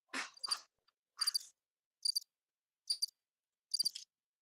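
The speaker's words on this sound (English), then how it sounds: "Hey, crickets, hold on. Crickets." Cricket-like chirps in short bursts, five or six trills spaced about a second apart, fairly faint and alone with no talk.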